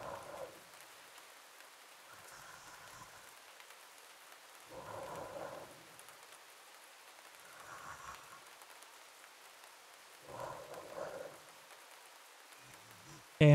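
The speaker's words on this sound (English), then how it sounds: "Sounds like a little bit of rain." Rain and low thunder in the video game Mouthwashing, a steady soft hiss of rainfall with deep rolling rumbles swelling every few seconds, heard alone at moderate distance.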